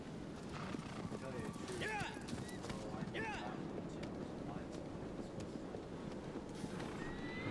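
The horse Agro galloping in Shadow of the Colossus, with quick rhythmic hoofbeats running steadily throughout, a brief whinny in the middle, soft wind behind, and someone talking over it.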